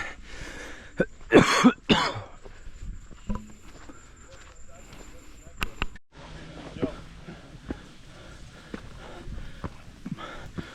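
A few harsh coughs from a persistent nasty cough burst out early on a mountain in Nong Khiaw, Laos, then quieter shuffling and small knocks follow with faint background noise.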